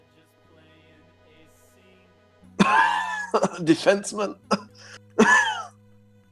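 A throaty cough bursts out after a stretch of quiet, followed by someone speaking a word or two and then another rough cough.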